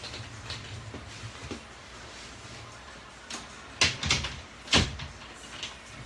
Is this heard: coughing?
no